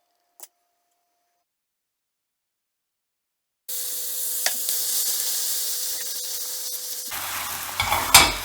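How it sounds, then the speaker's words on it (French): Caster sugar caramelizing in a hot frying pan, a sudden bright sizzle starting after several seconds of near silence, continuing as a steady hiss with light stirring scrapes before dropping off near the end. "Dans une poêle chaude, je verse 100 g de sucre en poudre"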